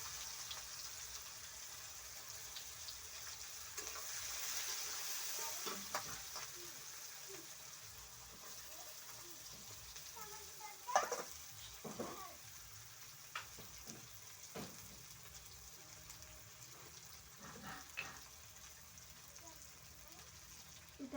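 Chopped onion drops into hot oil in a pan and fries with a gentle, fairly faint sizzle. Occasional clatters and scrapes are scattered through the long stretch.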